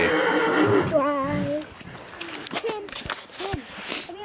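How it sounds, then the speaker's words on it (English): A new horse at a barn neighs loudly and close by, a wavering whinny at the start, followed by shorter calls and some shuffling while a person talks nearby. "Apparently that's a new horse at the barn and he's not used to anything, so he's neighing all the time."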